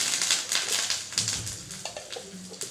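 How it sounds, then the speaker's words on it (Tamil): Rapid, irregular pops and crackles sizzle close by as mustard seeds burst in hot oil, with no talking. "இந்த எண்ணெயை ஊற்றி கடுகு வெடிக்குதா?"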